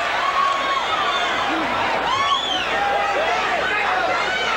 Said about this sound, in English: The crowd responds to the pressure of their champion.